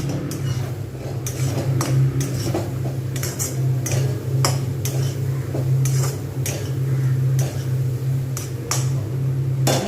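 A coconut and sesame mixture is stirred in a pan, with flour added, producing steady scraping and clinking of a spoon against the metal, many quick irregular taps over a low hum, near and continuous, without talk.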